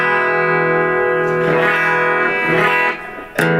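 An electric guitar played clean through a Melonare MA-1 portable amp with reverb on, sustained chords ringing out and blooming into a wash of echo, with a short break and a fresh strum near the end.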